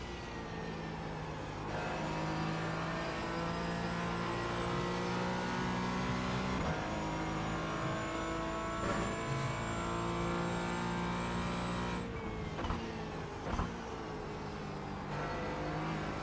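Race car engine in the iRacing sim game, a steady droning engine note shifting pitch through acceleration, braking and gear changes, moderately loud and without talk.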